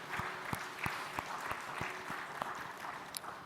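A church congregation at a Korean Sunday worship service claps in a welcoming round of applause, a soft, continuous patter heard from some distance with a few sharper individual claps standing out.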